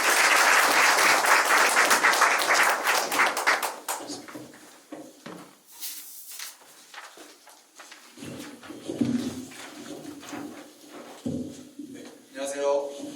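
A seminar audience bursts into dense, loud applause as two guests are welcomed onstage, and the clapping thins out after a few seconds into scattered claps, shuffling and murmured voices.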